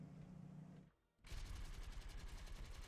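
Rapid gunfire from D.Va's mech in the Heroes of the Storm video game: a dense, loud stream of shots that breaks off for a moment of near silence, then resumes as sustained rattling fire.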